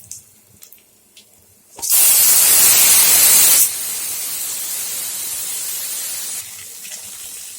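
Taro stolons going into hot oil with fried garlic burst into a loud hissing sizzle that eases into a quieter steady fry, continuing to the end.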